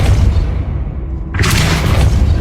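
A Depulso spell cast in Hogwarts Legacy lands as a single sharp, booming blast over a low rumbling game backdrop, loud and close.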